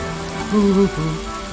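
Steady rain hisses in the video game Little Big Adventure 2, a soft constant patter under a brief tonal game sound.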